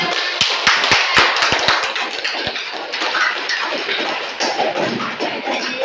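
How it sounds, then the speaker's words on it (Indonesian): A classroom of students claps together, dense, steady applause near and loud throughout, with sharper individual claps standing out early on. "tepuk tangan"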